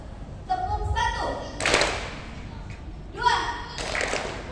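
An audience at a national seminar joins a counted clapping game, with a couple of loud group claps landing between stretches of a person talking over a hall's background murmur.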